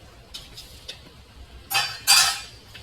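Partly cooked basmati rice tipped into a pot of marinated chicken for biryani. A few light ticks come first, then two close, hissing, scraping pours.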